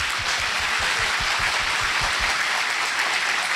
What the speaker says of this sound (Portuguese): Aplauda bem forte ao Senhor.